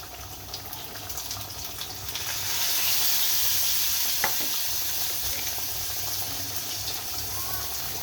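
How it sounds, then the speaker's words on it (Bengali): Garlic sizzling steadily in hot oil in a home kitchen while cooking Bengali jute-leaf dal, a continuous close fry that swells slightly louder partway through, with a faint clink near the middle. "আমার তেল গরম হয়ে গেছে, আমি রসুন দিয়ে দিলাম"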